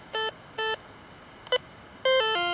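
Short electronic beeps from an MX Sport metal detector: two brief tones, a quick blip, then a longer, louder two-part tone at the end, over faint background hiss.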